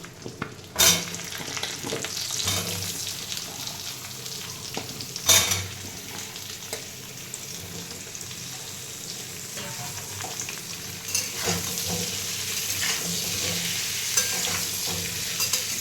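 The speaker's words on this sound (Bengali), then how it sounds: "আলু পেঁপেটা ভালো করে ভেজে নেব" Steady sizzling of potato and papaya frying in a pan, with a few sharp clinks of a utensil stirring against the metal.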